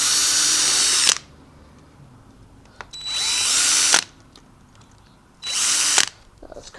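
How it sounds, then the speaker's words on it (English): A power drill bores holes through plastic trays in three loud, high-pitched whining bursts of roughly one second each. Short quiet gaps separate the bursts. "I'm just going to drill holes all along."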